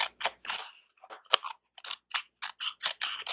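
Scissors trimming paper for a travelers notebook planner make a quick run of crisp, close snips, about a dozen short cuts in an uneven rhythm.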